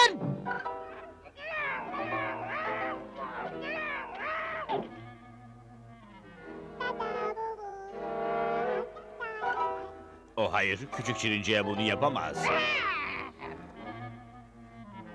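A cartoon cat in the Smurfs animated series meows and caterwauls in long, drawn-out, wavering yowls. Several bursts come across the scene, with character voices talking over and between them.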